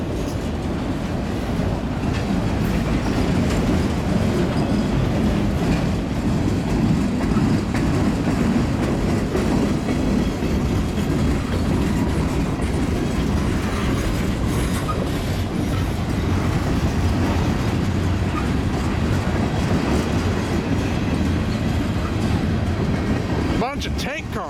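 A freight train hauling auto rack cars rolls past, a continuous loud rumble and rattling clatter of wheels on rails sustained throughout, close by.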